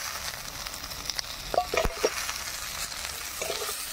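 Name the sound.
crushed durga chhatu mushrooms frying in spice paste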